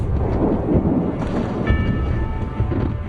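Deep rolling thunder from lightning rumbles continuously, loud and low, with a noisy stormy wash over it and a brief faint tonal streak midway, no voices.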